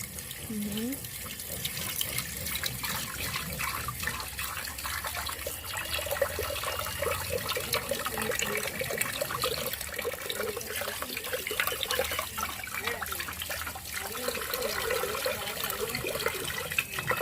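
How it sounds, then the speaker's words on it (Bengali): Cut ghatkol vegetable stalks are washed under running water in a sink, a steady close splash and gurgle that continues the whole time. "এবার ধুয়ে নেব এগুলোকে ভালো করে ধুয়ে নেব"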